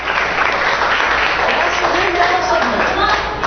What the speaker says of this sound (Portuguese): Palmas para ele aqui que respondeu uma coisa.